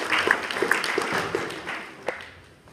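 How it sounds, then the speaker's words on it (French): A live show audience applauds a volunteer on stage, producing a steady wash of clapping that slowly fades, with a few brief voices mixed in. "On peut l'applaudir"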